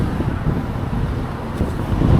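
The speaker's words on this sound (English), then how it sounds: "Far out, it's windy today." Strong wind buffets the microphone in a constant low rumble, loud and close, with no other sounds standing out.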